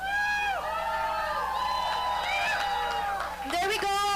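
An audience at a culture night event in Surrey, BC, cheering and whooping loudly and steadily over the whole stretch, with a voice speaking over the crowd.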